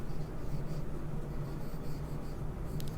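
A pen or chalk scratches steadily while the reason for a Class 10 maths geometry solution is written out, a continuous soft writing sound close by.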